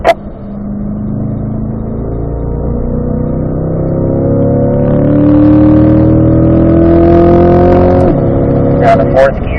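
A race car on the Ron Fellows circuit accelerates hard out of a corner, its engine note climbing steadily and loudly up close, with a driving coach talking over the roar throughout.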